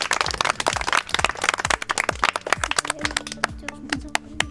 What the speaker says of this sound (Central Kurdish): یەک چەپڵە بۆ ڤارینیش